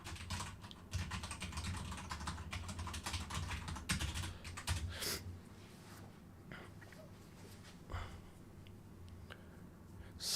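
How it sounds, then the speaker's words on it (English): Rapid computer keyboard typing clatters steadily up close during a coding session, dense at first then thinning into scattered keystrokes and a few sharper clicks. "The keyboard is exactly as loud as it is."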